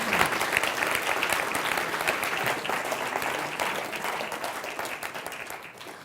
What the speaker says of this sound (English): Give a round of applause, folks.